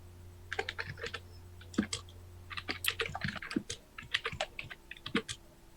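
Someone types on a computer keyboard with irregular bursts of crisp key clicks and pauses between them, quiet and close, alongside a low steady hum during an online chat session.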